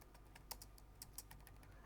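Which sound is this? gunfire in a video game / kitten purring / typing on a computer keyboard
typing on a computer keyboard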